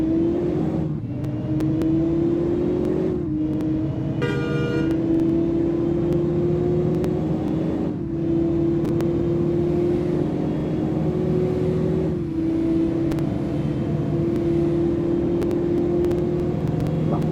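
Simulated bus engine from Bus Simulator Indonesia drones steadily while driving along a seaside road, a constant hum with a rising tone and brief shifts as the engine pitch climbs and resets several times, with no talk.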